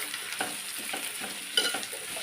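Onions, salted, sizzle steadily in a pan for a lentil-fritter curry while a spoon stirs through them with soft scraping clicks and one sharper knock near the end, close and fairly quiet, with no talking.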